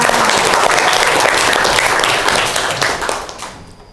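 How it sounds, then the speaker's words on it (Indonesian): A classroom claps for a student named Nana, a loud, dense burst of many hands sustained for about three seconds before tapering off quickly at the end. "Beri tepuk tangan untuk Nana"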